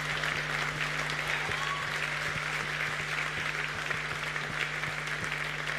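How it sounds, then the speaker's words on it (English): A church congregation gives the fathers a sustained round of applause, full and even throughout. A faint low hum and scattered thumps run underneath. "let's give them a big hand clap"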